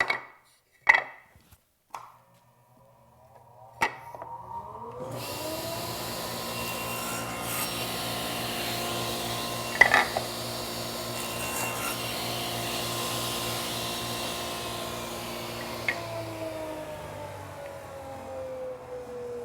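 A table saw spins up after a few sharp wooden knocks, then hums steadily as the blade cuts a kerf in a wood block for a V-block, with brief scraping bursts as the stock is pushed through.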